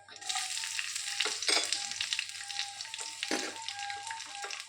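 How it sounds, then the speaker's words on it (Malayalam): Ginger and garlic hit hot oil already holding mustard seeds, curry leaves and fennel for a restaurant-style egg curry, a bright crackling sizzle close by, with a few clinks and stirring strokes over a few seconds and no voices. "ഇനി നമുക്ക് ഇഞ്ചി വെളുത്തുള്ളി കൂടി ഇടാം"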